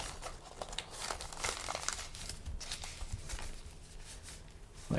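Paper being folded into an origami figure gives close, soft, steady crinkling and rustling with small crisp creases, quiet and continuous with no speech.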